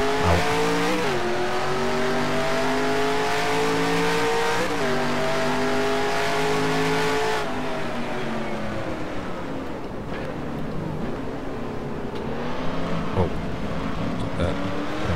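Several race cars drone and rev around the Mid-Ohio circuit in a racing video game, a loud continuous engine whine that rises and falls as they shift gears and brake for corners, with faint tire squeal.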